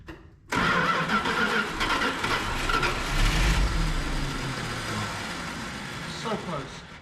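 An old RV engine cranks and tries to start after choke and gas pumps, a loud sudden churning grind that runs ragged for several seconds and sputters without settling into a clean idle, close by.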